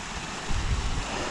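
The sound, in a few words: small waterfall flowing into a plunge pool on Blackden Brook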